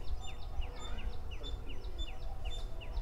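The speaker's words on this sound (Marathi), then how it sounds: "तुम्हाला मी ज्या आवाजाबद्दल आत्ता बोललो तो खारुताईचा आवाज आहे" Repeated squirrel chattering calls near a temple in Hampi, a steady series of short chirps at moderate distance over a low background rumble, with no talking.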